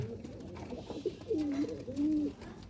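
A Kaldom pigeon coos from its nest in a new loft, a few soft, rolling low coos in quick succession, close by with faint background noise.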